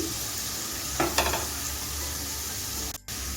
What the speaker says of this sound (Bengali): দেখুন আমার পেঁয়াজটা প্রায় ভাজা হয়ে এসছে আমি আমরা এক মিনিটের মতো ভেজে নিচ্ছি